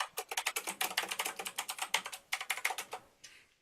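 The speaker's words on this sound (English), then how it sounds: "Somebody's typing." Rapid keystrokes on a gamer keyboard, a close, steady run of clicky taps with short pauses, ending in a brief softer rustle.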